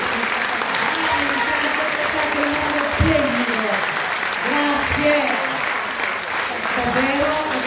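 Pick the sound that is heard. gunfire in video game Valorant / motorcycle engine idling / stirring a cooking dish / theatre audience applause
theatre audience applause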